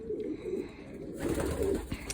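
Domestic pigeons coo close by in a loft, low throaty repeated calls overlapping from several birds, with a brief rustle partway through and no talking.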